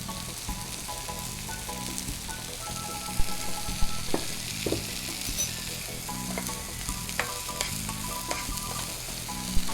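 Kamaru (mole crickets) fry in a pan with a dense, steady sizzle and crackle, broken by sharp pops and occasional stirring scrapes, close and continuous with no voices.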